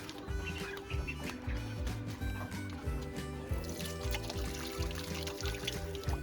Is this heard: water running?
yes